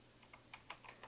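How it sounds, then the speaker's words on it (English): Typing on a computer keyboard while writing Java code, roughly eight quick, light key clicks in an uneven rhythm, close and quiet over a low background hum. "typing"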